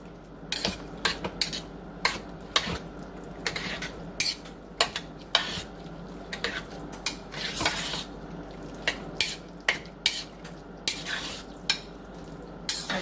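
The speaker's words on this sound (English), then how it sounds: "And then you're going to mix all of that up together" A spoon stirs Fiesta blend cheese into a potato casserole mixture in a bowl, giving repeated sharp scrapes and clinks against the dish in an irregular rhythm, with no talking.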